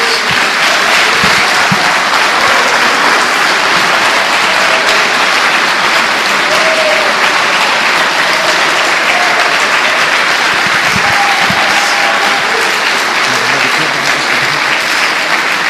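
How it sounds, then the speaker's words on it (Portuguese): A church congregation claps at length, a loud, sustained wall of applause that never lets up, with faint murmurs beneath the hands. "Dê uma salva de palmas, Jesus."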